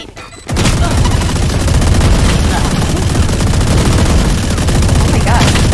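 Gunfire and a grenade explosion in the video game Valorant, with a sudden loud onset followed by continuous rapid bursts of shots and booms, dense and close, with a voice shouting underneath.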